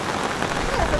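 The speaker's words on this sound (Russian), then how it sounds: "Ну все, дождик вот вроде как заканчивается. А вроде бы и не заканчивается. Нет, он обманул. Он усиливается." Heavy rain pours onto surfaces on a night seafront promenade in Koktebel, Crimea, a steady dense hiss close by and filling the whole second, with no talk.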